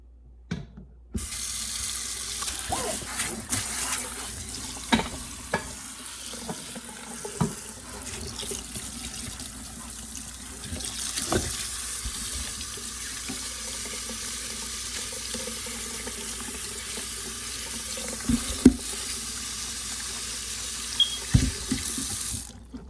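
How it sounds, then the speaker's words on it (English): Tap water runs steadily into a cabin kitchen sink while dirty potatoes are washed under it, with occasional clunks and splashes from handling over the continuous flow. "And I'm going to wash the potatoes."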